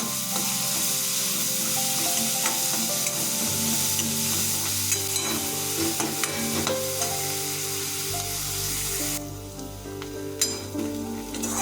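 Onions sizzling and frying in hot oil in a kadai, a continuous dense crackle with occasional stirring scrapes, close up and free of talk.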